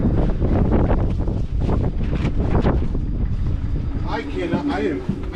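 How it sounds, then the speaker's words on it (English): Heavy wind buffets the microphone in a constant low roar and rumble aboard a Catalina 30 sailboat, with a voice speaking briefly underneath near the end. "it's super windy"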